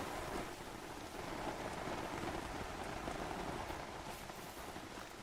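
Steady, dense rainfall in theHunter hunting game, a continuous close hiss of drops pattering on surfaces with no breaks and no talk.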